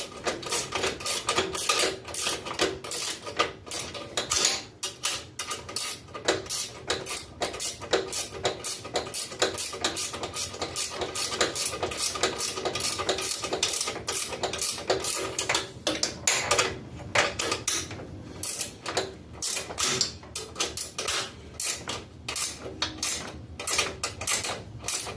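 Ratchet wrenches click and clatter in rapid, continuous bursts while fitting the rear fender on a 1991 Harley-Davidson Sportster build, close up with brief pauses and metallic tool handling throughout.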